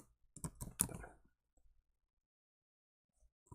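A short burst of computer keyboard typing, a quick cluster of keystroke clicks near the start followed by a few faint isolated taps and then quiet.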